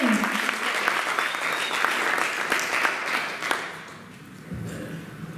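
A church congregation applauds loudly with sustained clapping that thins out toward the end, while a voice speaks through it.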